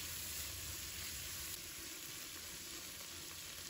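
Shiitake mushrooms with green and red peppers stir-fry in a hot wok, giving a steady, even sizzle that stays at the same level without a break for the whole stretch, with no voices.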